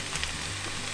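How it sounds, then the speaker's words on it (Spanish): Potatoes fry alongside beef in a pan over medium heat, giving a steady, soft sizzle over one brief second. "incorporamos las papas ya escurridas"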